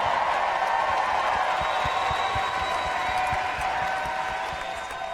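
A hometown crowd applauds and cheers for Canada at a fitness invitational event, producing a steady, dense wash of clapping and crowd noise that continues throughout and eases slightly toward the end.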